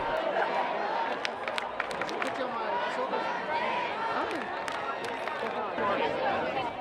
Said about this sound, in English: I'm here in downtown Lawrence where the crowd is ecstatic and the atmosphere is exhilarating